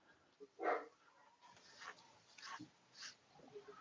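A dog barks and whimpers faintly from downstairs in a house, a few short scattered yelps at a distance under quiet room tone.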